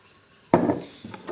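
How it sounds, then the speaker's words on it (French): A spoon clinks sharply against a container while salt is stirred into 100 ml of water, followed by a few lighter taps and scrapes. "Donc je mélange l'eau avec le sel."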